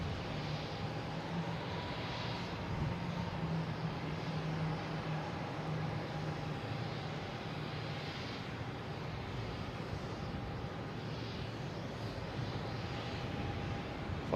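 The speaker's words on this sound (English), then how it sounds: "We have Delta coming in here from San Juan." A Delta Airbus A321neo arriving from San Juan at Boston Logan, a steady broad jet roar with a faint engine whine, holding at even loudness throughout at moderate distance.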